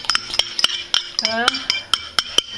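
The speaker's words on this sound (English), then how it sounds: "Okay, so I beat them up a little bit." Four eggs are beaten in a bowl with a utensil, giving sharp, irregular clinks and taps against the bowl with a brief scraping whirl midway, close and clear with no talking.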